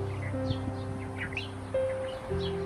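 Spotted dove calling in an open rural setting, with low steady cooing tones that shift pitch a couple of times, mixed with faint chirps from other birds and light background rustle.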